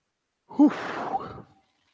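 A teacher in a reasoning class lets out a single close yawn, rising into a voiced breathy sigh and trailing off in under a second.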